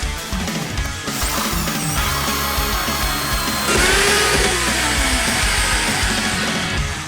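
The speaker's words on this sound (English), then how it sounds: "I've just drilled a hole through my car." Power drill boring a hole through the body metal of a Datsun 280Z car, a loud continuous whirring grind that holds steady for several seconds and grows harsher partway through.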